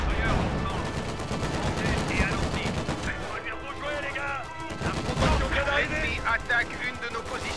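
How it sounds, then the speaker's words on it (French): Machine-gun bursts and scattered rifle shots crackle through a World War II battle in Company of Heroes 2, set in the Battle of the Bulge, with rapid rhythmic volleys that persist throughout under a busy mix of combat noise. "Où est ce fusil mitrailleur?"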